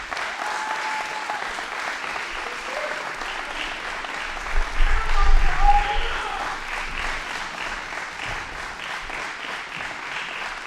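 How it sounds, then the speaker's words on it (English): An audience applauds kids on stage at a Resonance 2026 show, dense sustained clapping that swells briefly midway with a few low whoops, then settles into a steady roar. "Let's give a round of applause to all the kids on stage"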